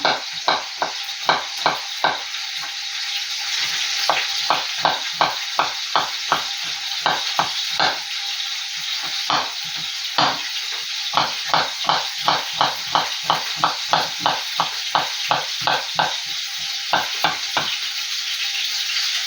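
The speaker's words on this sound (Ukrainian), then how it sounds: "М'ясо смажиться" Ribs sizzle steadily in a hot pan while a utensil scrapes and stirs in quick repeated strokes, close and fairly loud with no talking.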